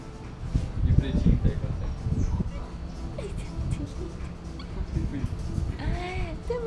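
Dogs at a pet adoption place bark, yip and whimper in scattered bursts, near and moderately loud, with people talking over the noise outdoors.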